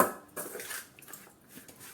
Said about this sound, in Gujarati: વઘાર રેડ્યા પછી આપણે મિક્સ કરી લેશું